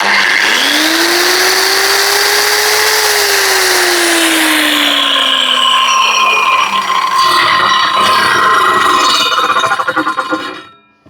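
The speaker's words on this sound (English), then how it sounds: "this is a 9-inch 2000 watt angle grinder, and again it can cope with this really well" A 9-inch 2000 watt angle grinder powered from an Aferiy P210 power bank whines loudly as it spins up, holds a steady high-pitched run with a shifting tone, then winds down and cuts off near the end.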